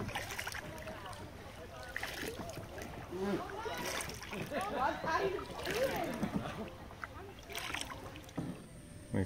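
A kayak moves gently through mangrove river water in southern Cambodia, with soft paddle strokes, splashes and drips close by. People's voices carry over the water from the paddlers.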